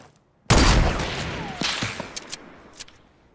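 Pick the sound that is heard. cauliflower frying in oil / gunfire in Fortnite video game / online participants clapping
gunfire in Fortnite video game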